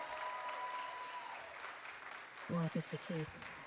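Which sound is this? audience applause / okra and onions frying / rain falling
audience applause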